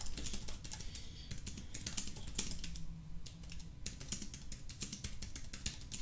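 Steady, fast typing on the keyboard of a DOOGEE T30 PRO tablet, dense clicky keystrokes close to the mic for several seconds, with no voices.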